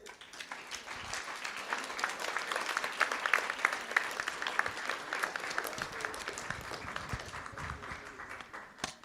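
A school board meeting audience applauds for the district finance department. Dense, steady clapping from many people in a large room lasts about nine seconds and fades slightly near the end.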